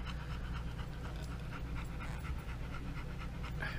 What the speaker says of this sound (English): Are you still panting?